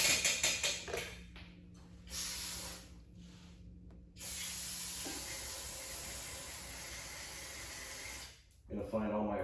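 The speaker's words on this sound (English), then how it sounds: "I'm going to spritz this a bit with some carb spray." Aerosol carburetor cleaner sprays on a Craftsman pressure washer's Briggs engine in hissing bursts, short spritzes and then one long continuous spray, close and fairly loud.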